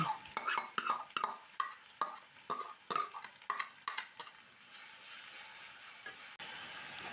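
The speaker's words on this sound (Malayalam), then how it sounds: "വെളുത്തുള്ളി എല്ലാം ഒന്ന് കളർ മാറി കിട്ടുന്നിടം വരെ വഴറ്റി കൊടുക്കാം" Garlic sautéing in a pan for a Kerala-style stir-fried bean dish, with a steady sizzle and repeated scraping, clinking stirs of a spoon against the pan, the stirring stopping partway while the frying hiss carries on.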